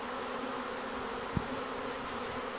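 A honey bee swarm being captured into a hive in Red Bluff, California gives off a dense, steady buzz that stays constant throughout, with one brief soft knock partway through.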